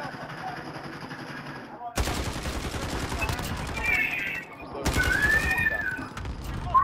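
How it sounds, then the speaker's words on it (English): Gunfire in Call of Duty on the Rust map: loud, sustained bursts of automatic fire broken by a short pause, with a thin whistling tone over the later volleys. "I keep getting shot in my face."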